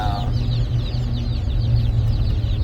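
Young chickens in a brooder cluck and chirp in quick, repeated bursts, close and clear over a low background hum.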